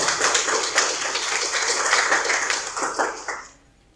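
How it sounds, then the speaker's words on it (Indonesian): Audience clapping for a student who asked a question at a lecture on generative artificial intelligence, a lively scattered round of many hands that fades out near the end. "Beri tepuk tangan buat Jaki"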